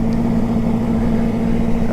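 A motorcycle engine idles steadily with a low, even rumble throughout, close by and fairly loud, with no speech over it.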